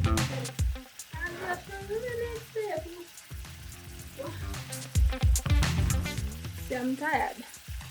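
Omena and tomatoes cooking in a pan, a soft sizzle running beneath a person talking and occasional clinks, fairly close by.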